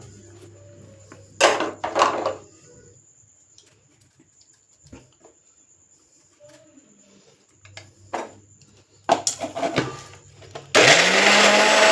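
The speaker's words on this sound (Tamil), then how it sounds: "மிக்சியில் போட்டு, அப்புறம் கருவேப்பிலை அதையும் போட்டு ஓட விட்டுக்குவோம்" After scattered clatter and handling knocks, an electric mixer grinder holding curry leaves switches on near the end and runs with a loud, steady whirring roar.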